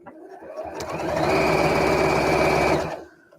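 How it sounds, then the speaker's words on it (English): A sewing machine stitches fabric lining close to the edge in a steady fast run of about two seconds, rising from a soft start and stopping cleanly, close and clear with no talk. "I'm just sewing really close to the edge."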